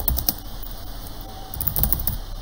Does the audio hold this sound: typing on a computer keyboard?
yes